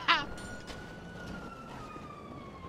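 A faint, distant ambulance siren wails in a GTA roleplay game, its steady tone drifting slightly lower beneath soft background noise after a brief sharp sound at the start.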